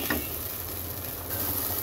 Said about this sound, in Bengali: দেখো ঝোলে বলক চলে আসছে